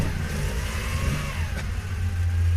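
A Porsche 911 with a 2-litre flat-six engine running just after start-up, a steady, close, throaty low rumble with slight fluctuations in revs, heard alone without talk.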